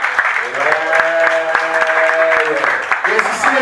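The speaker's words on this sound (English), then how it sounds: "we want you with a round of applause" Audience applause welcoming someone to the stage at a listening event, steady clapping throughout with music or a held tone underneath and voices mixed in.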